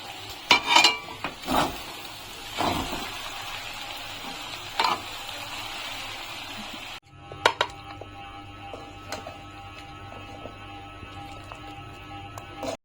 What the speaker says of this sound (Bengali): এখন আমি একটু ধনেপাতা কুচি দিয়ে নাড়িয়ে চাড়িয়ে